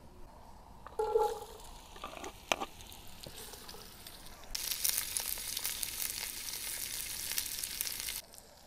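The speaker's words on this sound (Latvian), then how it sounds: "Karstā katlā lejam eļļu, lai tā uzkarst, un tad baram iekšā visu sagriezto." Chopped soup ingredients hit hot oil in a pot and set off a loud, steady sizzle that holds for several seconds, after a few earlier clinks and clatters of cookware.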